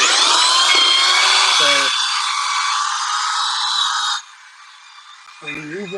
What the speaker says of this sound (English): you're just using a drill brush